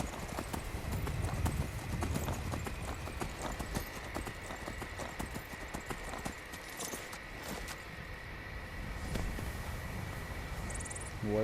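Horse hooves clip-clop steadily in Skyrim, a continuous run of quick beats heard close and alone over a faint ambient game soundscape.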